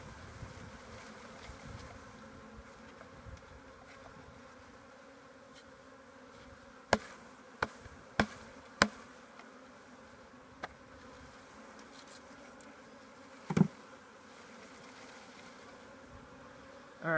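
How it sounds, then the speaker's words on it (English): A swarm of honey bees hums softly and continuously while a package of bees is installed into a hive, with a few sharp knocks and taps breaking through the low drone. "Alright, there's still bees inside here."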